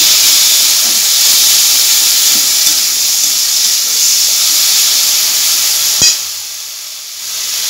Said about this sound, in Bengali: এবারে আবারও মশলাটাকে আমি ভালো করে কষে নিচ্ছি।